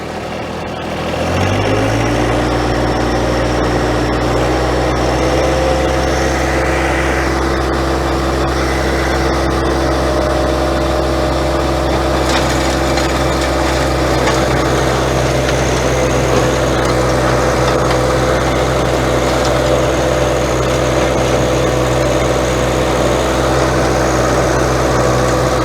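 A John Deere 1025R compact tractor drives a PTO-powered tiller working garden soil, a steady loud low engine drone with a mechanical whine that starts up and holds continuously close by.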